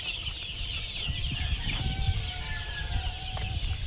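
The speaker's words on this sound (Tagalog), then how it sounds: "Ito yung mga ibang sisiw" A dense chorus of 25-day-old chicks peeps continuously, high and fairly soft, with scattered clucks and faint rustling underneath.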